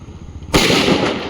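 A single sharp Diwali firecracker bang bursts out suddenly and loudly, followed by a second of ringing, crackling noise after some quieter background rumble.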